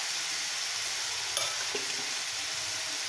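Chicken for spicy shawarma frying in a pan, a steady soft sizzle with a few faint scrapes of stirring, continuous and close.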